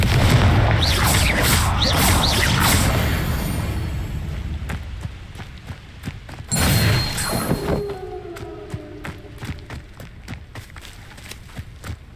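Confringo explosive spells cast in Hogwarts Legacy gameplay: dense, loud bursts and booms early on, then a heavy blast near the middle, followed by sharp scattered impacts and thuds, with no talking.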